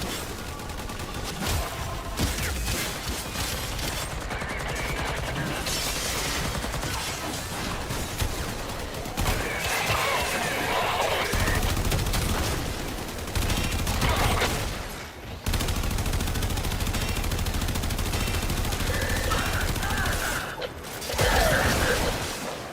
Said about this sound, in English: so many bullets.